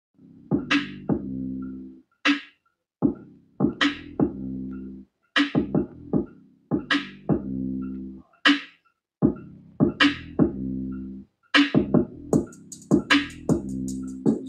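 Music with steady rhythmic bass and plucked notes repeating in bars, played through a Fosi Audio Bluetooth stereo amplifier at flat tone settings, clear and even throughout with no one talking over it.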